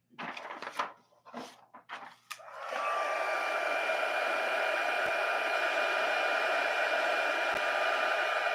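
A heat tool blows hot air steadily to heat set a freshly applied design, coming in after some brief handling noises and holding a loud, even whoosh for several seconds.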